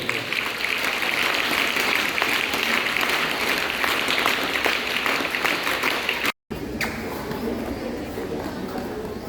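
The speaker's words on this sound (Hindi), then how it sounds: "विजेता और उपविजेता टीम के लिए सभी खिलाड़ी जोरदार तालियां बजाएंगे" Players at a sports day closing ceremony clap hard for the winning and runner-up teams, a steady, loud wash of applause from many hands that breaks off for a moment near the end, then resumes.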